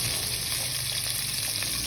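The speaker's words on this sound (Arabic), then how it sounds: "ناخذ على الدهين وجاي نقلب الدجاج" Chicken frying in oil for an Iraqi chicken kabsa, a dense continuous sizzle heard close up with faint stirring scrapes and no talking.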